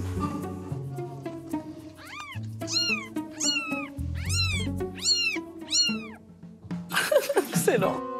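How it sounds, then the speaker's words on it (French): Newborn kittens meowing repeatedly in high, thin cries, several rising calls in quick succession close by, with a woman's soft speech and household sounds around them. "On va regarder les bébés chats qui sont nés."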